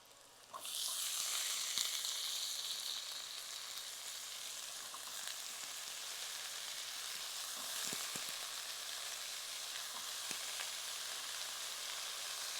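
Sliced onions and eggplant fry in a pan for a Tamil eggplant pepper curry, giving a loud, continuous sizzling hiss that starts abruptly and holds steady, with a few faint clinks.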